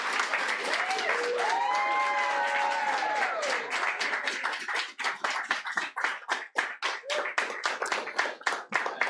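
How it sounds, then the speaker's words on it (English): A voice speaks alone at first, then audience clapping at a poetry festival showcase swells in and carries on to the end, loud, close and in quick, irregular bursts. "I feel like you're clapping for me."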